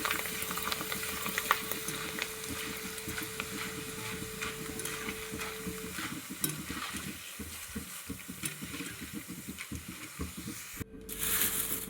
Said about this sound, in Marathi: तर आता हे सगळे पोहे मी तळून घेते